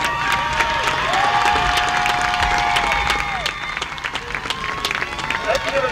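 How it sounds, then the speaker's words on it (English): A crowd claps and cheers in a large room during a high school award presentation, with a long whistle-like tone partway through and the applause thinning toward the end. "Let's give another big round of applause for Aurora on her third place finish at the"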